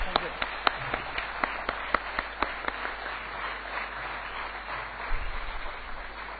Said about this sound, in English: let's hear a loud round of applause for Mr. Sridhar from Accenture